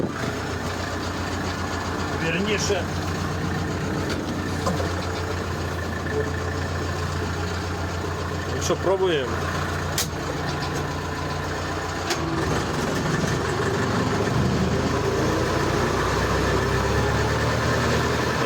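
A walk-behind tractor's small engine idles steadily with a low droning hum throughout during hay mowing, while someone speaks briefly over it and a few clinks occur.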